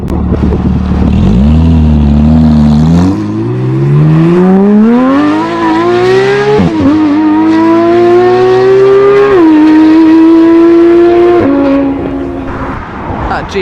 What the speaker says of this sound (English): GT3 sounded amazing, lovely little throaty sound.